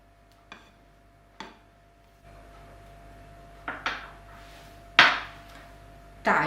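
A knife cuts blackberries and raspberries on a cutting board, with a few separate knocks of the blade against the board that come more closely together and grow louder toward the end. The sound is close and has no talking.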